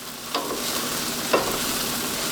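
Eggplant and mushroom pasta sauce bubbling in a pan under a constant sizzle, with two distinct scraping stirs of a utensil.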